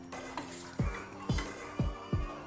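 A spoon stirs a paste into chicken korma with yogurt in a pot over low flame, making four evenly spaced dull thuds against the pot with soft wet scraping between them, close and moderately quiet.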